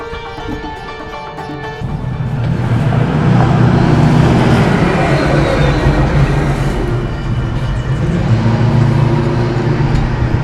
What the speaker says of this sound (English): Diesel trucks. Oh my gosh. So noisy.